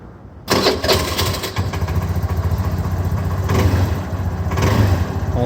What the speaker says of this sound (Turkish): Bir marş basalım bakalım.